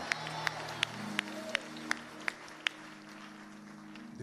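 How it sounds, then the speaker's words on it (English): Sharp hand claps ring out in a steady rhythm at a church service, about eight evenly spaced beats that stop partway through, over a low sustained hum and a faint voice. "Clap your hands and shout fire,"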